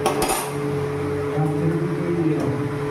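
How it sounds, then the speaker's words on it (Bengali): A lid placed over a pan of pumpkin-leaf greens cooking on medium heat, a brief metallic clink near the start over a steady background hum, with faint talk. "চাপা দিয়ে দিলাম।"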